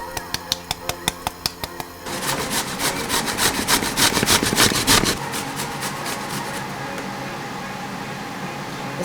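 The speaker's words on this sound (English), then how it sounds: "It's always very nitty gritty when you come down to the last part of the vegetable you're ever grating." A vegetable being grated by hand down to its last small piece while making Bajan pudding and souse, heard as a rapid series of close, rough rasping strokes, first sharp and separate, then quicker and denser, fading to a steady scraping.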